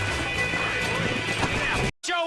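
Horse galloping in the Western game Red Dead Redemption, a steady rush of hooves under game ambience and music that cuts off abruptly near the end before a voice begins.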